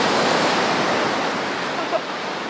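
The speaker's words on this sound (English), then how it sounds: "I think there's a little too much bounce in the bounce waves today, as Blair would call them." Ocean waves breaking and washing up a skimboarding beach, a steady, loud broadband roar of surf that fills the whole clip with no clear pauses.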